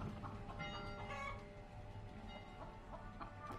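A chicken clucks repeatedly at a low, fairly distant level, with short irregular calls over a soft background murmur.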